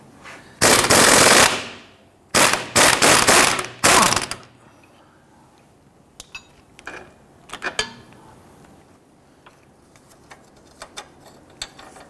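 An impact gun works on a control arm bolt of a Dodge Charger, three loud rattling bursts close by, followed by quieter clicks and clanks of tools and metal parts.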